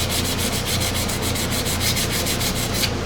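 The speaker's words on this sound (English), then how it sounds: "So you just take your sandpaper and go with the grain." Sandpaper rubbed by hand along the grain of a wood pen blank on a lathe, a dense rasping hiss in a steady back-and-forth rhythm, close and continuous.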